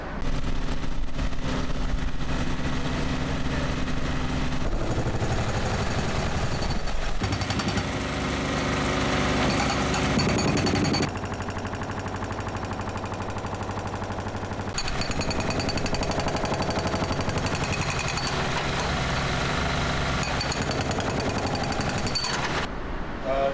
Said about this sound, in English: There is a little mini digger there that's going to break the cutter holes